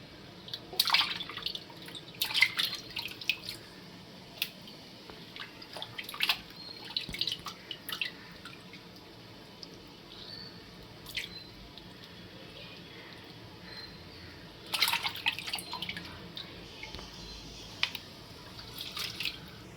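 Pieces of fish are washed in a kitchen while water drips and splashes in scattered bursts over a low steady background, quiet and close, with irregular spacing and no speech.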